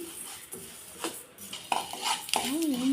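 Masala spices roasting in a pan give off close scraping and metal clinks as they are stirred, with a person talking over the stirring throughout.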